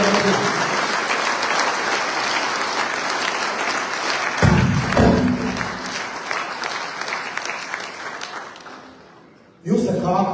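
Loud, sustained applause from an outdoor political rally crowd in Vagharshapat, Armenia, dense clapping that dips briefly and then surges again near the end.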